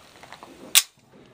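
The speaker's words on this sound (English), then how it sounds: "I'm not even aiming now. I'm just shooting." A single sharp rifle shot from an H&R M1 Garand cracks loudly and close, a brief blast after a stretch of quiet background with no talk.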